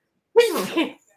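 A single sneeze bursts out loud and close, rising sharply then trailing off in about half a second, with no other talk during it.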